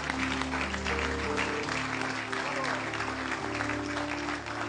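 A church congregation at a prophetic service claps in a dense, continuous burst of applause with crowd noise, sustained for a few seconds alongside an indoor hum.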